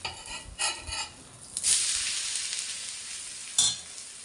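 Chana dal and rice batter hits a hot iron griddle and bursts into a bright, close sizzle that settles into steady frying, with a few soft clinks of utensils.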